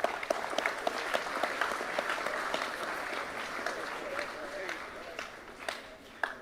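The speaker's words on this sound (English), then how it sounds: "And if we could give our 9As a clap." Steady applause from a school sports assembly for the 9As Premiership team, a dense, even patter of many hands clapping at moderate volume with a few louder individual claps and faint voices.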